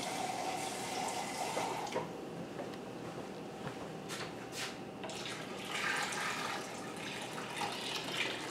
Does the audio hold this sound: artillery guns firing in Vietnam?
no